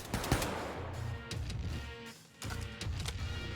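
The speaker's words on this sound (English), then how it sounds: "I hear gunshots" Scattered gunshots crack amid music and game noise in Wolfenstein II: The New Colossus, fairly quiet sharp bursts spread unevenly, with a short lull in the middle.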